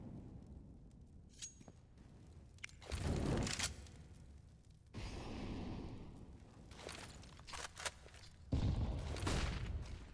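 A grenade goes off in a Counter-Strike match, a sharp blast near the five-second mark amid scattered gunfire, bursts and clinks, with another loud burst close to the end.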